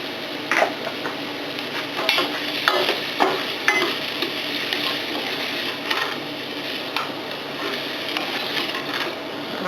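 Zucchini with a knob of butter stirred in a pan for a one-pan meal, giving a steady low sizzle with scattered scraping clicks of the utensil against the pan at irregular intervals.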